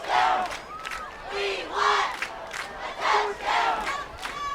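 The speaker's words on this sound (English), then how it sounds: "Fillmore crowd calling for a touchdown." A high school football crowd at a Fillmore game chants in rising, rhythmic waves of shouting near the goal line, a steady pulsing roar of many voices from the stands.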